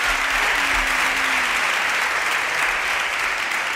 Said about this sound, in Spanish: Un aplauso a Curro, por favor.